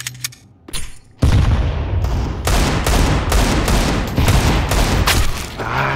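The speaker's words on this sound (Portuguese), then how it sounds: "Meia hora atirando no cara, acertei duas balas só" Counter-Strike gunfire on the Nuke map: after a quiet opening with a couple of faint shots, a loud, dense burst of rapid shots runs on almost continuously for several seconds, close and sharp.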